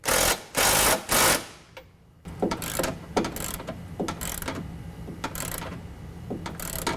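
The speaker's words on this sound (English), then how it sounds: "we're gonna use the same 13 millimeter, and we're gonna go ahead and tighten down the brackets to the body of the vehicle" A ratchet with a 13 mm socket tightens Ionic 5-inch oval nerf bar brackets to a vehicle body. Three loud, quick bursts of ratcheting are followed by a pause, then a long run of sharp, uneven clicks close by.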